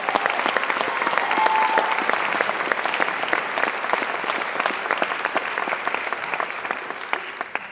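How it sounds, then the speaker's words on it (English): A convocation audience applauds, steady crowd clapping with distinct individual claps close by, sustained for several seconds at a fairly even level. "How about a big round of applause for our audience?"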